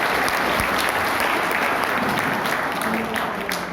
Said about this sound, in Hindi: एक बार जबरदस्त ताली बनती है सभी।